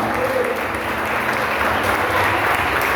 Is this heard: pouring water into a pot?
no